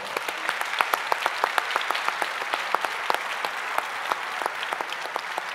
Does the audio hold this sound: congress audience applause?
yes